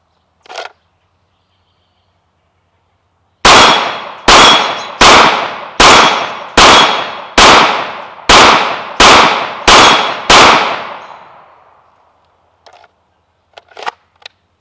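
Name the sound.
Glock 19 Gen 5 pistol gunshots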